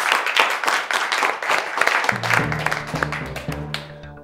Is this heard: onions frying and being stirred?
no